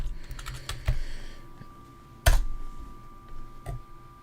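Typing on a computer keyboard: a few scattered key clicks, then one sharp loud tap and a couple of lighter presses, close by in a quiet room with no talking.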